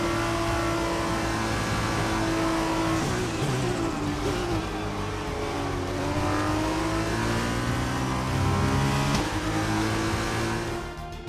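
F2 race car in the F1 2020 video game driving back in after a race, its engine whining and revving through several gear changes, rising and falling pitch, steady and close, with no talk.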